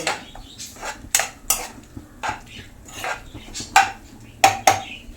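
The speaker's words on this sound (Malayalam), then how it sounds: "ഒന്നുകൂടെ മിക്സ് ചെയ്ത് കൊടുക്കാം" Softened tomatoes stirred in a pan for a horse gram curry, the spoon knocking and scraping against the metal in a loose series of sharp clinks close by, with no talking.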